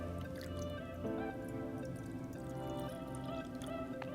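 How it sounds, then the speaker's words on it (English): Skim milk pours into a bowl in a continuous trickling, splashing stream with small drips, steady and close throughout. "I'm just gonna pour some into our bowl here."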